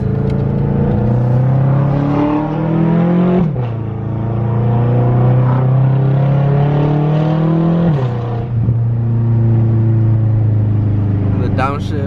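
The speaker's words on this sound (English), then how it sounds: "Just in case you guys miss hearing the M5 exhaust." A BMW F10 M5 revs hard through its exhaust, the engine note climbing and dropping in two or three long pulls with a steady loud rumble and no voices over it.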